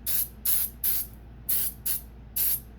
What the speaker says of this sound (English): And then you can spray your another one. Get all the sides coated.